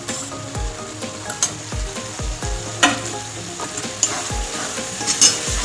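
Loitta (Bombay duck) fish cooking down in a hot pan, loud close sizzling broken by repeated scraping strokes and clinks of a spatula stirring, with no talking.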